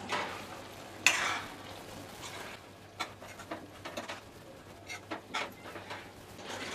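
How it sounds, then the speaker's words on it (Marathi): Fresh cashews are stirred and sautéed in a pan, giving a soft steady sizzle broken by scraping strokes and light clattering taps from the spoon, close but quiet. "यामध्ये आपण ओले काजू घालूया. परतून घेऊया."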